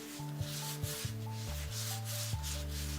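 Hand sanding of a plaster-putty rose bas-relief: rhythmic, gritty rubbing strokes repeat roughly every half second, close and steady, over a continuous tonal background hum.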